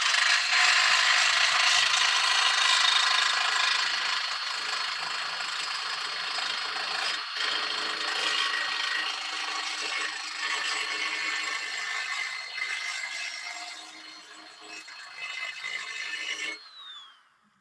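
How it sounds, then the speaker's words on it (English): Grinder attachment on a hand drill sharpening the edge of a tool, a loud continuous high whirring grind that gradually eases in level before stopping abruptly near the end. "just a grinder on the edge on your hand drill."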